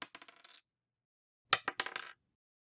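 A small plastic Lego piece clatters onto a hard surface with several quick bounces, then after a pause drops again with another short burst of clicks.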